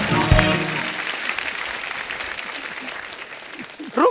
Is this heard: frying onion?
no